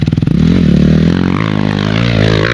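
A Yamaha motorcycle engine revs up loud and close, starting with a few sputtering pulses and then rising into a sustained throaty drone with shifting pitch.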